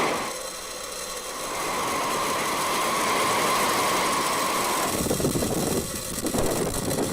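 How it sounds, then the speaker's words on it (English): A SpaceX Falcon 9 rocket lifting off for a Starlink mission produces a loud, continuous broadband roar that builds and holds, then shifts to a rougher crackling rumble near the end. "Liftoff of the Falcon 9."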